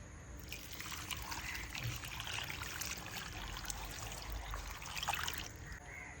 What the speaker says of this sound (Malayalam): ആവശ്യത്തിന് വെള്ളം ഒഴിച്ച് കൊടുക്കുക